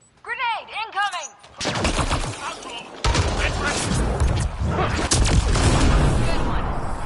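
Grenade blast and heavy gunfire in the game Mass Effect Andromeda, opening with a voice and warbling sci-fi tones, then dense loud rapid weapon fire and explosions filling the rest of the clip.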